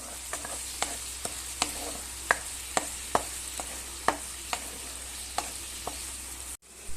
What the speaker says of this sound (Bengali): পেঁয়াজটা আমি একটু ফ্রাই করে নিচ্ছি।